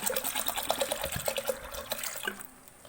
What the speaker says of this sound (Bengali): ডালটা দেওয়া হয়ে গেছে, এবার আমি এতে জলটা দিয়ে দেবো।